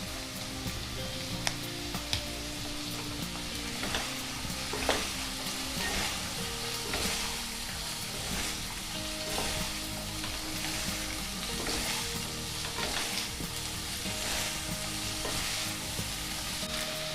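Veg hakka noodles with beans stir-fry in a hot pan, giving a steady loud sizzle with repeated scraping and tossing strokes throughout, and no one speaking.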